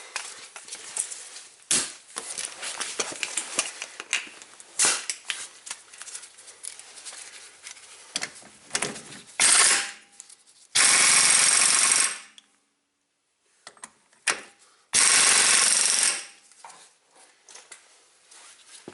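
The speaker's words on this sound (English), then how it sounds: "Now let's snug down this axle nut." A Subaru axle nut is run down with a power tool on a rusty hub assembly, giving rapid, loud rattling bursts near the mic, stopping and starting, with two long sustained whirring runs near the end and silent gaps between.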